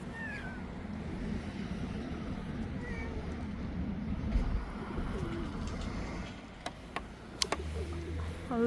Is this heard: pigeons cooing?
yes